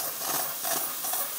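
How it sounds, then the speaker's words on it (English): A budget Harbor Freight handheld steam cleaner sprays a continuous jet of steam, a steady, close hiss with slight fluttering that carries on without pause. "Pretty much immediate steam."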